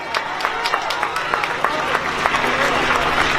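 Rally crowd for George Floyd applauding, scattered claps building into steady, fairly close applause that runs for several seconds with background crowd murmur.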